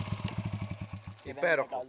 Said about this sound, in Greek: Motorsport εξάτμιση